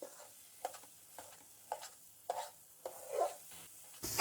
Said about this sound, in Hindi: तकरीबन इस तरीके से मिक्स करते रहेंगे और साथ साथ इसकी बुनाई करते रहेंगे